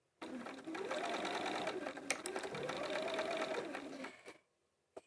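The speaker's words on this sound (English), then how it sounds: "I'm going to sew down the side." A sewing machine stitches steadily down the side of a fabric bag in two long, even runs with a brief pause between them, then stops.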